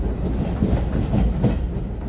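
A train rolling along rails in a wartime German film, with a steady, continuous rumble and faint rhythmic clatter of wheels on track that fills the whole stretch without pause.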